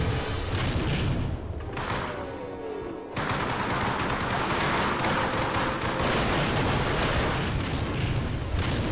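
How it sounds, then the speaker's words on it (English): Grenades in the video game Hour of Victory set off a continuous run of loud, overlapping blasts and gunfire, with a short lull near the three-second mark before the explosions resume. "It's a freaking grenade apocalypse."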